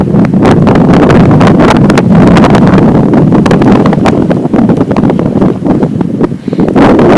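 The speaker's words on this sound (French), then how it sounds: "Ça souffle déjà pas mal fort et oui, ça s'intensifie." Strong storm wind with gusts passing 60 km/h batters the microphone, giving a loud continuous roar and buffeting, broken by frequent sharp gust thumps that swell and ease, with no talking.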